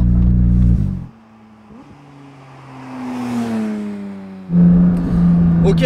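A Porsche 992 GT3 flat-six roars loudly, drops to a lower rising drone as revs climb and fall, then bursts back into a strong, high rev near the end.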